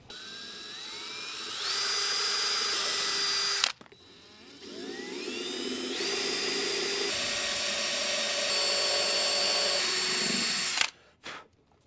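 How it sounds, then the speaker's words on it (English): A power drill with a small bit bores pilot holes while building camper van kitchen cabinets, whining up to speed in two close, loud sustained runs separated by a brief stop. "The first hole that I'm gonna drill is going to be with a small drill bit"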